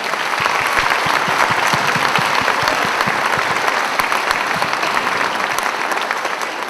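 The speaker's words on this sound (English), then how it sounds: "Can we give these boys and girls one more round of applause?" A school concert audience in a hall gives a round of applause for the young performers at the Vernfield spring concert. Many hands clap in a loud, continuous stream of sharp individual claps lasting several seconds.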